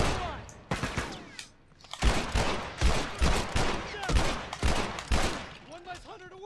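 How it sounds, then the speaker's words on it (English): Assault rifle fire in The Last of Us multiplayer rattles out in rapid bursts, loud and close, with sharp repeated cracks and echoing tails. "Oh my god, the assault rifle!"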